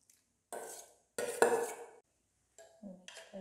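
A spoon stirs grated carrot into buttermilk in a metal bowl, producing close, short bursts of clinking and scraping separated by silent pauses.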